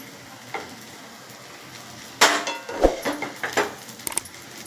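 Rava sandwich idli turned over in a hot oiled pan, a sharp sizzle bursting up mid-way followed by a few scraping, clattering pan contacts and a softer lingering fry.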